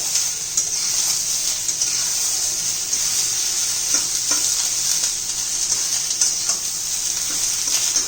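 Ridge gourd pieces frying in hot oil over a medium flame, a loud, steady, close sizzle with a few faint stirring clicks, no voices.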